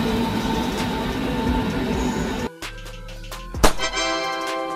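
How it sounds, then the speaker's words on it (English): Regional passenger train rolling along with a steady rumble and rail noise, then a shift to clanking wheels, screeching squeals and a sharp metallic hit, loud and close, no voices. "A passenger train operating within a specific region or between nearby cities, offering frequent stops for commuters and travelers."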